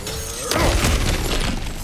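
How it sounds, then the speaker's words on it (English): Kratos smashes through objects in God of War Ragnarok, a sudden crashing, shattering impact with rumbling debris over steady game ambience, loud and close with no talking. "back to smashing through things for fun and profit"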